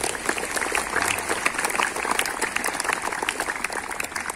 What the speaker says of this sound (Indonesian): tepuk tangan untuk petugas